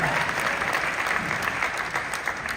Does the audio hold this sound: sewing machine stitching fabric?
no